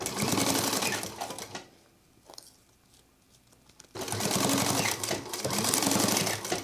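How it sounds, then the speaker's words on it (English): A sewing machine stitches a 3/8 inch seam enclosing a zipper on a homemade sling crossbody bag, running in a steady rapid whir, pausing briefly mid-way, then resuming at full pace. "we're going to sew this with a 3/8 inch seam allowance"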